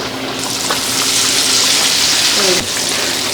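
KFC-style breaded chicken frying in hot oil, a loud, steady sizzle and crackle throughout, close up, with no talk.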